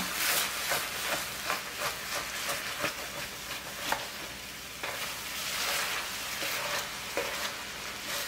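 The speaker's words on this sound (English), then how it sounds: "So I am just going to scrape this teriyaki and residue off while the pan is still hot." A spatula scrapes teriyaki sauce residue off a hot pan in a home hibachi-style kitchen, making a steady run of rough scraping strokes against a faint sizzle, up close with no talking.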